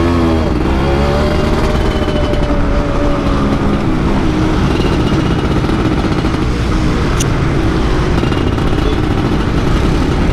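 A 2002 Yamaha F1ZR motorcycle with its body panels removed, ridden on the road, gives a loud continuous two-stroke engine drone with wind noise, held at a steady pace throughout.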